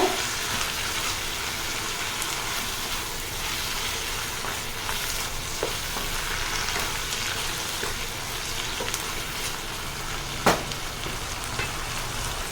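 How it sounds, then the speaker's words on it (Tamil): Mint leaves sautéing in a pan give a steady, close sizzle broken by occasional spatters and stirring taps. The sound continues without speech. "ஒரு ரெண்டு நிமிஷம் நம்ம புதினாவை போட்டுட்டு வதக்குனாலே போதும்"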